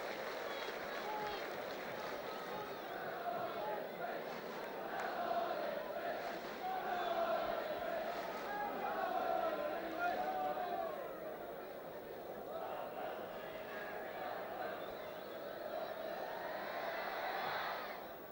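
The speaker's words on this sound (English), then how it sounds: "and the crowd love it." A football crowd at an Ipswich Town versus Spurs match keeps up a steady roar and murmur throughout, rising and swelling at times, with a commentator's voice running over it.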